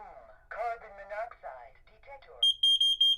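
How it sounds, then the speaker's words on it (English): A Honeywell 5800CO carbon monoxide alarm sounds its temporal pattern as a series of loud, high, evenly spaced beeps, following a spoken announcement from the alarm system. "it's that temporal 3-beep sound"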